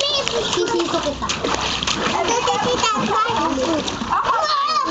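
Children splash and slosh in water while swimming, close and continuous, with excited kids' voices talking and shouting throughout.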